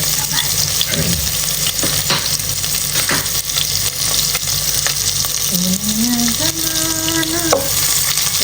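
Garlic frying in hot oil in a pan while cooking Nepali-style rajma, a steady close crackling sizzle throughout with a few stirring scrapes and clinks, no talking.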